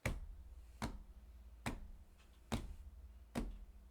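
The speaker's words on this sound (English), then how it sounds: "So beat is actually a steady pulse" Five sharp percussive clicks at an even, steady pace, about one every 0.85 seconds, crisp and close against a quiet background.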